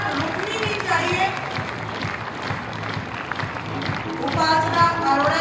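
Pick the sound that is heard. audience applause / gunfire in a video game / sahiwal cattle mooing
audience applause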